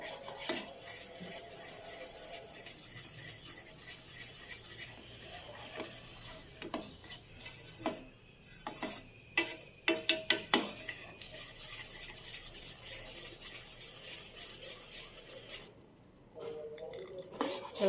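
A mango pudding mixture with milk is stirred in a pan, giving close, repeated scraping and sloshing strokes that come irregularly and grow sharper midway, with no voices.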